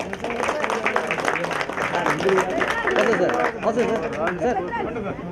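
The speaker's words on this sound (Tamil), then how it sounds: "நல்ல ஒரு பலமாக கைத்தட்டு" An audience claps steadily at a beach cleanup event on Besant Nagar beach, with crowd chatter and voices mixed throughout the applause.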